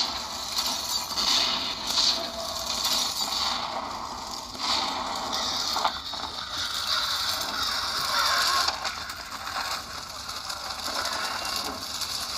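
Looping lightsaber hum from a ProffieOS Lord of the Rings sound font with a red flame blade: a continuous textured drone with rattling, ratchet-like mechanical detail and shifting swells, steady at moderate loudness with no talking.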